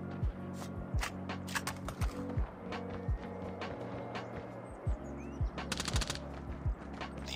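Gunfire in Call of Duty Mobile: repeated sharp shots and short bursts over a steady low background hum, fairly faint and irregular in rhythm.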